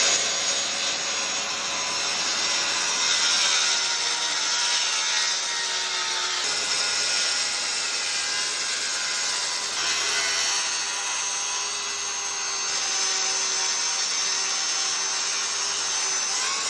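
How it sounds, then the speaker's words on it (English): Festool battery track saw cutting through a 1 3/4 inch slab of old growth fir, a loud continuous close whine and rasp holding steady across the whole cut with no pauses. "the smoothest and quickest cut I've ever made with a track saw"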